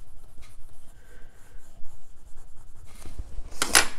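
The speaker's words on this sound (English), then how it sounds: "I can use my bone folder and flatten a bit" Soft rubbing and scraping of a bone folder pressed across paper to flatten it on a planner page, faint and close, ending in a brief, brighter swipe.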